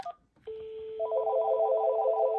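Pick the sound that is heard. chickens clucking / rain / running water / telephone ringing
telephone ringing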